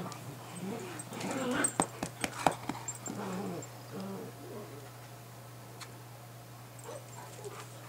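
A Bernese mountain dog mother whimpers and whines in short, faint yips indoors, with a steady hum underneath and someone talking softly over parts of it.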